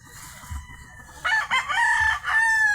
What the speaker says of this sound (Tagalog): tanawan yung amon mga manok. Kadamo gid no ang amon manok.